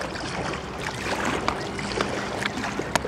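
A kayak paddle churns and splashes in the water close by with an irregular rhythm as the paddler works hard against the current beneath a bridge, under steady wind and outdoor ambience.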